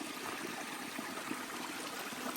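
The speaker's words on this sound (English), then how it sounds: "A very nice water feature in a 100-mile wilderness on day 2." Mountain stream flowing in Maine's 100 Mile Wilderness: a soft, steady broadband rush and trickle of water, fairly faint and continuous, with no voices.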